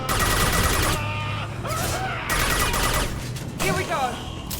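Enemy turret gunfire in Mass Effect 2 rattles on in a steady, dense stream through the whole stretch, layered with game music and voices talking over it.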